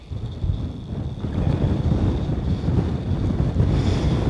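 Wind gusts on open Dartmoor moorland, roaring and buffeting a nearby microphone in a broad, rising rush with no voices.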